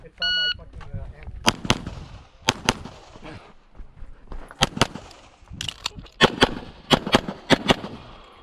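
Walther Q5 Match Steel Frame pistol fired on a USPSA range, sharp loud shots in quick strings of two and three spread over several seconds, with range chatter and a brief electronic timer beep at the start.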